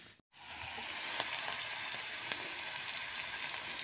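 Onion and garlic sizzle steadily in hot oil in a pan, a fairly quiet, continuous crackle with occasional sharper pops, following a brief silence at the start.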